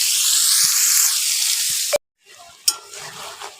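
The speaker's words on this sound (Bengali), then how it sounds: "এখন চিংড়ি মাছগুলো ভালো করে ভেজে নিই" Prawns sizzle loudly in hot oil with stirring scrapes for about two seconds, then the frying cuts out abruptly, leaving a brief metallic clank and softer low clatter.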